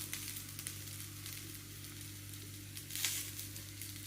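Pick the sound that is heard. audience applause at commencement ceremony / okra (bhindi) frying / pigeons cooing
okra (bhindi) frying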